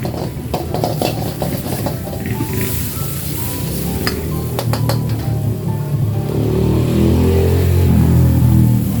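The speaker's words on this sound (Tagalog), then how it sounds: "ito yung vegetable niya, kangkong vegetable na ihalo doon sa gagawing fried rice." Kangkong being stir-fried into fried rice in a hot wok, a loud, continuous sizzle close by with scattered metallic scraping and tossing clatter, swelling toward the end.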